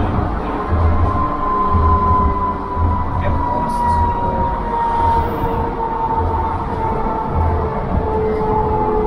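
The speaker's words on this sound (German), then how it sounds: "Unsere Straßenbahn kommt hier angerollt." A tram rolls in near Dresden, a steady loud rumble with a sustained metallic whine and rhythmic low thumps of wheels over rail joints, running throughout.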